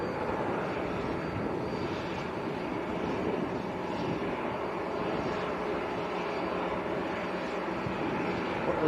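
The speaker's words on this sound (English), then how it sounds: "the second Loganair is just coming down behind now, look." A Loganair passenger plane comes down to land at Manchester airport, its engines giving a steady, moderately distant roar with a faint whine, continuous and without speech.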